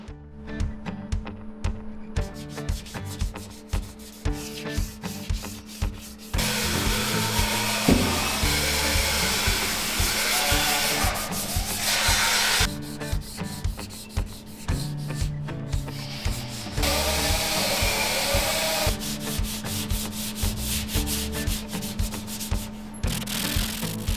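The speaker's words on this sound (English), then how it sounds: "The roll cage is also bare steel, so I need to sand that whole thing" A power sander works over a bare steel roll cage, giving a loud, close, continuous abrasive whir that shifts in pitch and pressure as it moves across the metal, with brief pauses.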